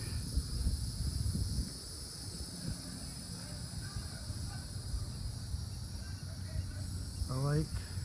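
Cicadas buzz near a lake in a nature park, a constant high, shimmering drone that runs throughout over soft outdoor rumble, with faint voices underneath.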